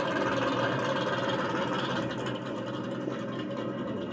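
A 400 cubic inch small block engine in a pulling tractor runs steadily at a tractor pull sled, a constant dense mechanical drone heard at moderate distance without letup.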